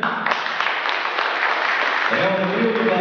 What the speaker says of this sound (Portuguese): Vamos lá, aplaudir, gente.